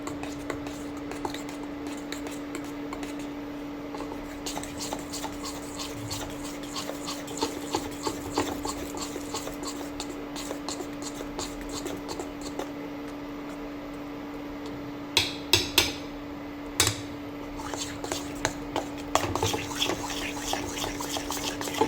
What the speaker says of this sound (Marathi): 5 मिनिटं चांगलं फेटायचं आहे।